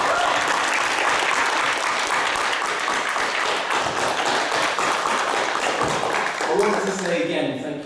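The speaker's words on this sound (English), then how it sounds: "get a huge round of applause for you" A crowd gives school pupils a big, loud, sustained round of applause that stays dense throughout, thinning only in the last moment as a voice begins to speak.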